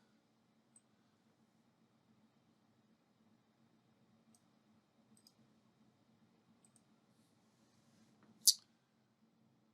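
A single sharp computer mouse click on a publish button, brief and close, standing out from an otherwise quiet room with faint background hum.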